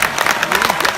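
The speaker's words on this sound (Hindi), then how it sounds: "मेरे स्वागत में दोबारा जोरदार तालियां बजाएं।" A short burst of clapping from the audience at a Hindi comedy poetry gathering, dense and fairly loud, with a voice mixed in.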